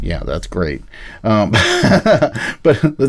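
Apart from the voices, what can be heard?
No everyday noises stand out.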